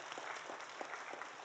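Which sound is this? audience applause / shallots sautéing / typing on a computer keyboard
audience applause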